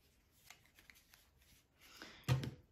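Tarot cards being shuffled and laid down: faint riffling and card slides, ending in a louder, closer slap as cards are set on the table.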